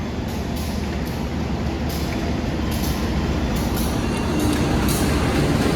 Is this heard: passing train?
yes